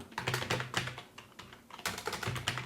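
Rapid typing on a computer keyboard while working in an Excel spreadsheet, with bursts of close, crisp key clicks separated by brief pauses.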